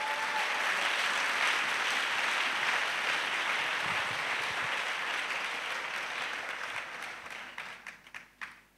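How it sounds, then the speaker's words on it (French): A church congregation claps together in praise of Jesus during a spiritual-warfare teaching service, a dense, loud, sustained wash of hands that thins into scattered individual claps and fades out at the end. "Clap offering to Jesus."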